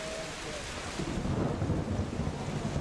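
Rain and thunder ambience playing as background atmosphere for a tabletop Dungeons & Dragons session: a steady wash of rainfall with a deep rolling rumble of thunder swelling midway.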